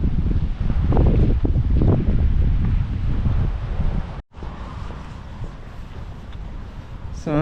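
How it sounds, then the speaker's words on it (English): Strong wind gusts roar and buffet the microphone at night on a walk between Wadebridge and Newquay, surging loudly, then dropping briefly before a steadier blustery rush resumes, with light rain. "Some of these wind gusts are just ridiculous."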